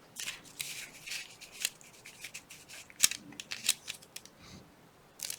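Scissors cutting paper for a craft project, quiet repeated snips and rustles in an uneven rhythm, close by, with no talking.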